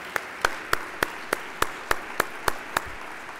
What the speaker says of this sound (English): please join me in a round of applause for the parents, grandparents, families, and friends of the young men of St. Thomas Academy